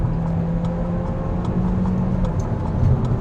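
A 2012 Citroen DS4 with the THP engine and automatic gearbox accelerates with a steady engine drone from inside the cabin, building gradually toward a gear shift.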